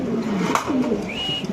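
Male pigeons coo close by at a pigeon seller's, giving low, throaty rolling calls over a brief burst of fluttery noise, with no talking.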